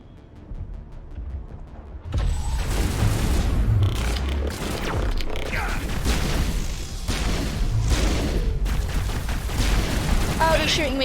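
Gunfire and blasts in the video game Mass Effect Legendary Edition: after a quieter start, a sustained barrage of shots and booms runs loud and dense, with a player talking over it.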